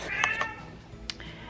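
A house cat gives a couple of short, close meows in quick succession, then one more brief cry, in a quiet home.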